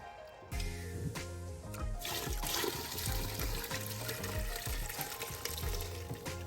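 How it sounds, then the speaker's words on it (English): Hot homemade beef bone broth is drained and poured, producing a continuous loud rushing, gurgling flow of liquid close by that starts abruptly and keeps going without speech. "Okay, so we're gonna drain this. It's really hot."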